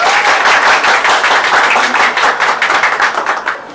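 An audience at a Harry Potter book box launch event in Brazil claps and cheers loudly for a costumed Hufflepuff extra, a dense burst of applause that thins into individual claps toward the end.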